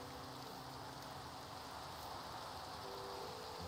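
Steady rain pours in the video game Minecraft, a dense, even hiss that holds unbroken and fairly loud across the whole stretch with no talk over it.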